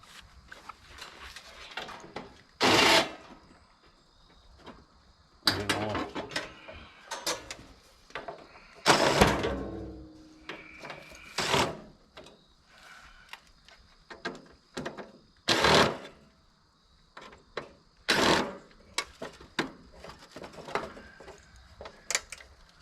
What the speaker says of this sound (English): Then I'm gonna take the rest of the screws out for the panels.